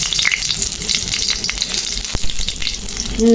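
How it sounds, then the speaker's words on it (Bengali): Chilies sizzle steadily in hot oil in a wok, a continuous crackling hiss with a brief louder flare near the end; no one speaks. "এই যে কড়াই তেল দিছি দেখবাই, এটা এমন কিছু লাগতো না, এটি শর্টকাট। তো এই যে দেখবেন মরিচ দিলাম"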